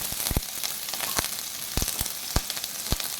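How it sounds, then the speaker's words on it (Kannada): Three green chillies crackle in one or two spoons of hot oil, a steady close sizzle broken by several sharp pops and spatters. "ನೋಡಿ, 1-2 ಸ್ಪೂನ್ ಎಣ್ಣೆ ಹಾಕಿದ್ದೀನಿ. ಹಸಿಮೆಣಸಿನ್ಕಾಯಿ 3 ಹಾಕ್ತೀನಿ."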